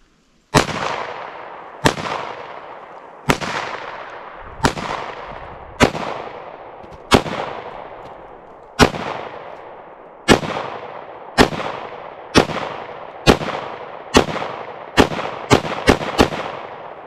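A PSA 5.7 Rock pistol fires about fifteen sharp shots at fruit targets such as a pineapple, the first ones spaced evenly and the last few coming in a quick burst, each crack ringing out clearly on its own.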